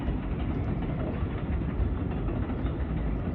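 A New York 6 subway train at Buhre Avenue station in the Bronx rumbles in a steady, dense roar, fairly faint and continuous with no voices.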